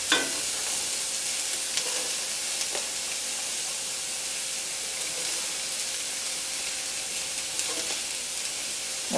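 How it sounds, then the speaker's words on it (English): Squash, onions and garlic sautéing in a pan for pasta primavera, giving a steady hissing sizzle broken by a few soft stirring scrapes. "Start swishing it around a bit for the onions so that the garlic doesn't burn."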